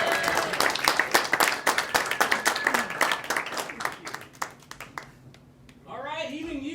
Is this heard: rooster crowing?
no